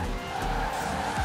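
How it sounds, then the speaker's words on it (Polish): Tires squeal and skid continuously as a car drifts in Forza Horizon 4, the engine roaring loudly beneath a sustained screech, close and unbroken throughout. "bo tu można arabskie drifty kręcić z tym samochodem"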